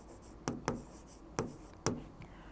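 Writing on a board during a chemistry lecture gives four short, sharp taps and strokes spaced unevenly across a couple of seconds, close and fairly quiet over faint room noise.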